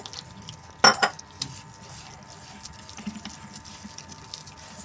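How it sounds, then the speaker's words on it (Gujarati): Water is poured into a bowl of gram-flour pakoda batter with green chickpeas and fenugreek: a brief splashy pour near the start, then faint kitchen clinks and quiet handling noises. "હવે આપણે આમાં પાણી નાખીને બેટર તૈયાર કરી દઈશું."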